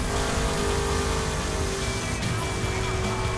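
In the video game The Crew, a car cruises across the salt flats north of Las Vegas, its engine a loud continuous drone without pause, with faint talk now and then.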